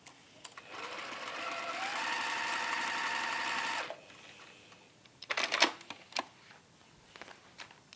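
Sewing machine stitching a glasses case, a close, loud rapid whirring run lasting about three seconds and then stopping, followed by a few soft clicks and handling sounds.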